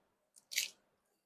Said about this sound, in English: Popcorn crunch test